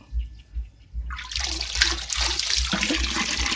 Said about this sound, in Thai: จะมาดูว่าน้ำใส่ถังสามบ่อนี้จะใช้เวลานานเท่าไหร่นะครับ